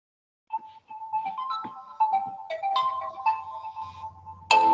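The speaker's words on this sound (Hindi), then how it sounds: "एक मिनट, मैं म्यूट कर रहा हूँ, जरा फोन आ रहा है।" A phone ringtone for an incoming call plays a bright, melodic sequence of electronic tones, rising and stepping in a repeating tune, clear and fairly close with no talk over it.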